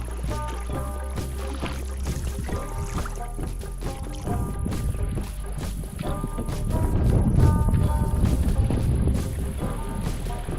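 A canoe paddled across Spider Lake in Massasauga Park, with steady rhythmic paddle strokes and water swirling close by over a constant background hum.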